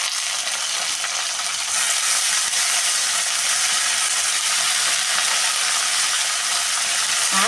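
Potato and brinjal fry in oil in a pan, giving a dense, even hiss and crackle that holds steady throughout with no talking.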